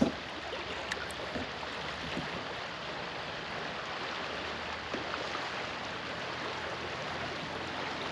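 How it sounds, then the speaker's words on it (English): River rapids on the Rum River in Minnesota rush in a steady, faint wash of moving water around a boat running shallow water, with a few soft knocks. "Going for the rapids."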